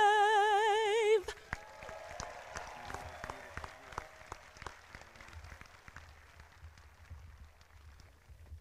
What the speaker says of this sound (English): Big round of applause for Ashley